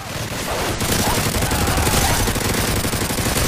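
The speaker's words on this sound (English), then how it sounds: "Sentry gun." A sentry gun in a video game fires a sustained, loud stream of rapid automatic shots that carries through the whole stretch. Other game noise runs underneath.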